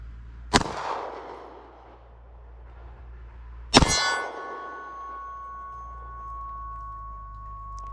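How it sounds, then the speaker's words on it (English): Two sharp shots ring out about three seconds apart from a Beretta APX A1 Compact pistol at an outdoor range, each a loud crack followed by a brief metallic ring and fading echo. "Let me go ahead and get shooting here."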